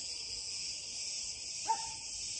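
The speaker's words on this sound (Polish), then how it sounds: "Słuchajcie cykady cykady, cykady, cykady." Cicadas in the Greek mountains drone in a loud, continuous, high-pitched buzz, with one short, faint tone near the end.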